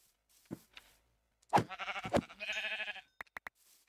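Sheep bleating in the video game Minecraft: a short bleat, then a burst of several wavering bleats that overlap over about two seconds. A few quick clicks follow, and there is no talk.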